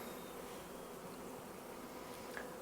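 Honeybees buzzing around an open, troubled beehive, a steady, dense, moderately loud hum with no pauses and no voices.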